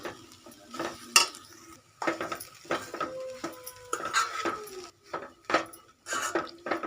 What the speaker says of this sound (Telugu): ఇప్పుడు మనం దీంట్లోకి కొబ్బరి కూడా వేసుకోవాలి దీన్ని కూడా బాగా కలుపుకోవాలి